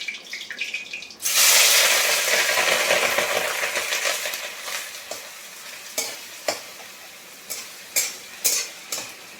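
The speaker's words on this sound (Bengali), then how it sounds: "কড়াতে আমি 2টো শুকনো লঙ্কা দিয়ে দেবো। তারপরে কী করবো, পেঁয়াজগুলো দিয়ে দেবো।" Dried red chillies and onions hit hot oil in a kadai with a loud, steady sizzle, which slowly settles into quieter frying, broken by several sharp clinks of a spoon stirring against the pan.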